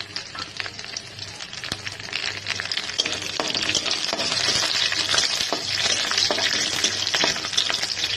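Chicken and vegetables with green chillies stir-fried over high heat for a Chinese-style dish, with a steady loud sizzle throughout and a spoon scraping and clinking against the pan.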